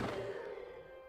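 A Revelio spell cast in the video game Hogwarts Legacy gives off a short magical whoosh with a soft low thump and a ringing tonal shimmer that fades quickly, quiet and alone.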